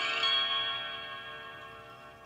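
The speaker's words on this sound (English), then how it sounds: "Now, push down the D7th chord and strum it." An autoharp D7th chord is strummed once with a flat plastic pick, bright at the onset and then decaying gradually as the strings ring on, close with no voices.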